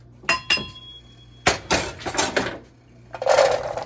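Diced sweet potatoes tumble into a pan with olive oil, giving a few sharp clinks and clatters, then a burst of dense sizzling toward the end.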